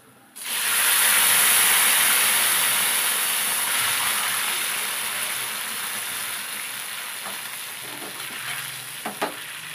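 Hot tempering with curry leaves poured into tomato rasam bursts into a loud, sudden sizzle and hiss that slowly fades, with faint stirring clinks near the end.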